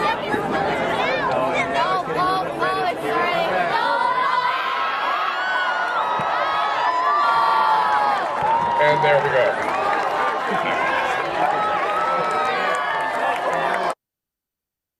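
A crowd at a sunset eclipse viewing cheers, whoops and shouts excitedly, many voices including children rising together in a lively, continuous clamor, with a voice speaking briefly amid the noise.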